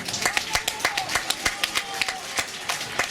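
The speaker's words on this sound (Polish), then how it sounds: "Czy to już są odpowiednie brawa, czy jeszcze?" A crowd at the Dobrodzień town festival claps in a regular, rhythmic beat, with sharp, distinct hand strikes carrying over faint background tones.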